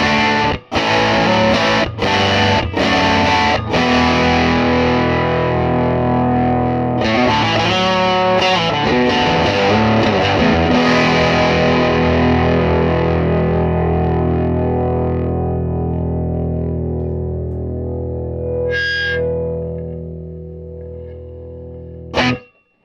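A heavily distorted electric guitar through a Milkman Hi-Fi 5W mini tube amplifier roars loud and sustained, with a few sharp strums at first, then long droning chords that slowly fade out.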